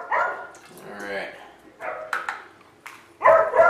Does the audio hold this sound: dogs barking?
yes